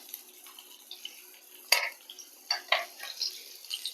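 Fried pineapple slices, Kerala-style pineapple fry, moved from the pan onto a plate, with a few sharp clinks and scrapes of utensil against dish standing out over a quiet background.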